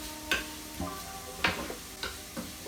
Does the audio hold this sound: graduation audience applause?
no